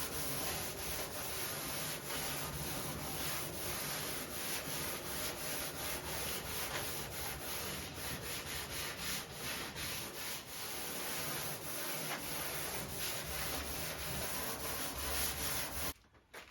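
A sanding block rubs back and forth over primer surfacer on a C20 car part, giving a steady, close, continuous scratchy rasp that goes on uninterrupted with no talking.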